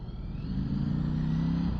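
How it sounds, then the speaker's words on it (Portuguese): Ducati Streetfighter V4 motorcycle with its stock homologated exhaust gives a hoarse, strong engine note that rises into a steady, sustained rev, moderately loud and alone. "o motor tem uma sonoridade rouca e mesmo com este escape de origem homologado tem uma presença bastante forte"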